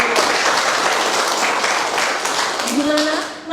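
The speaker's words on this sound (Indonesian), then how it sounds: "tepuk tangan dulu buat Pak" Steady applause from a meeting audience rings out for several seconds, a dense patter of many hands clapping, and a voice breaks in briefly near the end.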